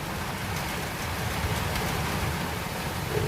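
Steady rain pattering on a truck's cab, heard from inside during a heavy downpour on a road trip in Maharashtra: a continuous dense hiss with low rumbling, even and unbroken, no voices.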